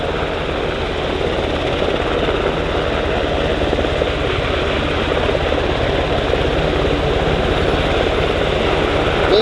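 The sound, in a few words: USCG MH-60 Jayhawk and MH-65 Dolphin helicopters hovering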